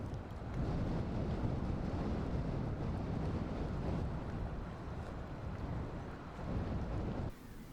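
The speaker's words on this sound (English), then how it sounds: "the subtropical westerlies turn into strong winds east of the mountains" Strong westerly winds blow across the dry Patagonian steppe east of the Andes, a continuous loud rushing roar with gusty swells and buffeting that drops off abruptly near the end.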